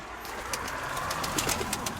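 A pigeon coos softly over a steady outdoor hiss, a few low soft calls within two seconds, with no one talking.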